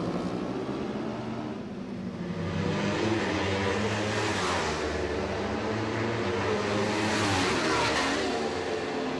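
Racing motorcycles at the 2011 Macau Motorcycle Grand Prix street race, a loud, sustained engine roar that swells and fades as the bikes pass, with no talking.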